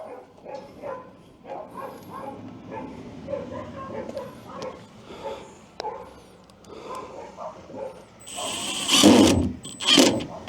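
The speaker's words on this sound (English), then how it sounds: "Damn barking dogs." Dogs bark and yip repeatedly nearby, with whimpering mixed in and a louder burst of barking toward the end, alongside a faint engine and some voices.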